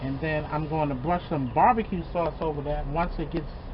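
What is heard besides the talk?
No everyday noise stands out behind the speech.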